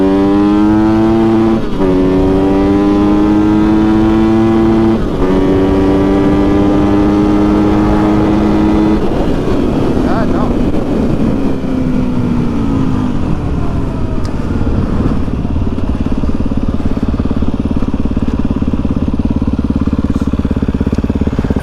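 A Kove 450 Rally and a Yamaha WR250F motorcycle in a drag race, engines revving loud and close, pitch climbing through gear shifts before settling into a sustained roar as the bikes pull away.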